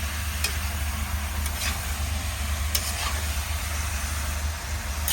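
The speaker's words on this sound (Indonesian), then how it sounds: "Aduk sampai merata" Food is stirred while cooking in a pan, with a steady sizzle and a low background hum, plus a few sharp scraping clicks from the utensil against the pan.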